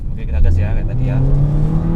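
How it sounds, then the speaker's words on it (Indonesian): A Honda Jazz hatchback engine revving up as the car accelerates, a rising engine tone heard from inside the car with a person talking over it. "Oke, kita gas ya kayak tadi ya."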